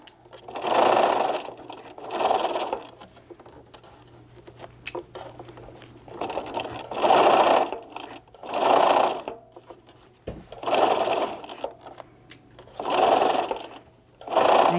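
A sewing machine with a zipper foot stitches a Japanese knot bag fitted with a grommet, running in repeated short bursts of rapid close needle chatter separated by pauses, with a faint steady hum between runs.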